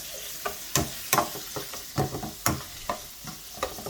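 Shrimps and ginger sizzling in a frying pan with a steady hiss, broken by sharp stirring scrapes and clinks of a utensil at an uneven rhythm, close and fairly quiet.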